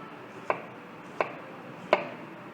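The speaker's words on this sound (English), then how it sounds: "When you are slicing onion, you need to follow the line." Three evenly spaced knife strokes knock sharply against a cutting board as an onion is sliced along the grain, each a crisp close chop over quiet background.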